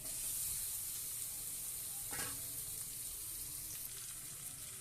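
Steady sizzling of goat legs and gizzards frying in spice paste in a pan, a constant crackling hiss with a brief clatter of stirring partway through.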